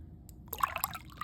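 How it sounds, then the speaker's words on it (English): Water pours briefly into a container as part of an ice cube demonstration, making a soft, close trickle that starts after a short quiet moment. It stays faint and splashy for about a second. "Pour some more of the water."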